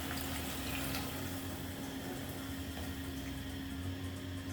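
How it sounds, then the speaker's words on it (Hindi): Water poured into a cooking pot of tinda gosht, a steady close splashing and gurgling stream that runs continuously at moderate level, with no talk. "अब ये देखें मैं इसमें पानी डाल रही हूँ।"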